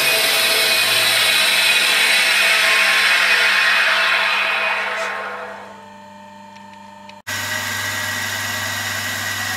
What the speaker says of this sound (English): We'll move it over to the former leaf grinder and sharpen the cutter.